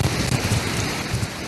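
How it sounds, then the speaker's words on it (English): Heavy rain pours down during Hurricane Ian, a dense, steady roar of water with low rumbling gusts underneath, loud and continuous throughout with no voices. "the rain is pouring, it's coming down."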